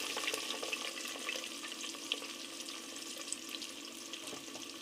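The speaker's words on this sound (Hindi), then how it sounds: "तो ये घी हमारा गर्म हो चुका है, इसमें थोड़ा पानी गिर गया था इसलिए ये थोड़ा शोर मचा रहा है।" Hot ghee sizzling and spitting in a pot after a little water splashed in, while cooking homemade chicken dum biryani; a steady close crackling hiss with small pops throughout, no talking.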